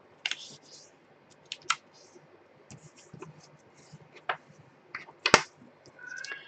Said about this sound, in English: fold it corner to corner, and then give it a nice crease